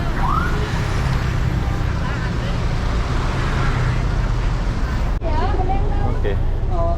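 City bus engine and road traffic on the route from Vietnam to Cambodia, a steady low rumble under loud street noise, with a sharp shift partway through and voices over it.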